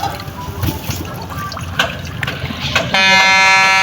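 A RoRo passenger ship's horn sounds just before departure, a steady loud blast with stacked harmonics entering near the end after a stretch of mixed ambient noise, running to the clip's close.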